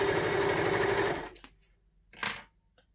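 A baby lock Victory overlock machine runs steadily while stitching fine organza, a fast dense mechanical whir that stops about halfway through, followed by two brief quieter handling noises.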